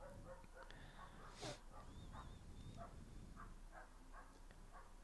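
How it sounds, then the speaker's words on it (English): A dog barks and yips a few times outdoors, faint and distant behind a steady background hum, with short scattered bursts over about five seconds. "Dog's going mental outside."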